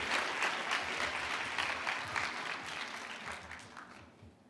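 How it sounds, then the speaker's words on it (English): A hackathon audience gives sustained applause during the final demos, dense clapping that gradually thins and fades over a few seconds. "And a round of applause for Fidelity."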